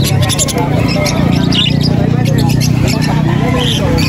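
Small pet birds such as African lovebirds chirp and chatter continuously at a busy pet market in Angeles City, a dense layer of close tweets mixed with people talking nearby.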